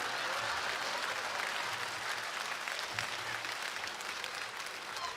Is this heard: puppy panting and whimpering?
no